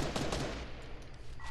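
Bursts of gunfire in the video game Fortnite, a rapid volley of shots at the start that trails off into a steadier background of weapon noise, moderately loud and with no talk over it.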